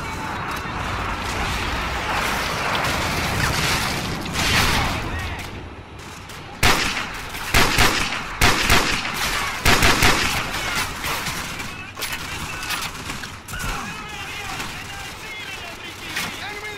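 Gunfire in Call of Duty 4: Modern Warfare, with repeated loud bursts of shots over a steady background of game noise, and someone talking over parts of the action.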